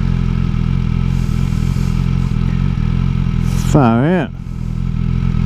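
BMW S1000 XR motorcycle idling at traffic lights on a rural Victorian road, a steady close engine rumble with wind noise, while someone speaks briefly over it.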